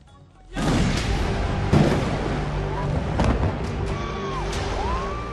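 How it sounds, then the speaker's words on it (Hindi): Bombs burst in airstrikes on Beirut: a heavy explosion rolls in with a dense rumble, followed by further thuds and a wavering siren-like tone, while a voice speaks over it. "बेरूत पर बम और बारूद की बौछार हो रही है।"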